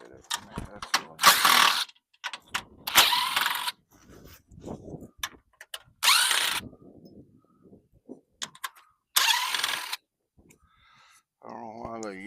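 A power drill backing screws out of an aluminium storm door being stripped for scrap, heard as four loud, harsh bursts of whirring and rattling separated by quieter handling clunks, ending with a brief high motor whine.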